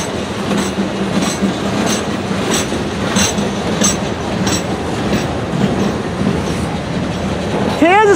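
A long freight train hauling waffle-style boxcars and scrap metal loads rolls steadily past nearby, wheels clacking in a rhythmic beat over the rails, with a brief wheel squeal rising at the end.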